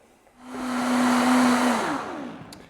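Blender whirring through cucumber soup with a pinch of salt: a steady motor hum rising for about a second and a half, then winding down, with no voices.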